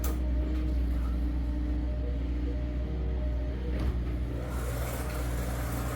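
Scale 2-litre BMW slot car lapping a track in a time trial, a steady continuous electric motor whine and rolling hum with slight surges, close and constant throughout with no talking.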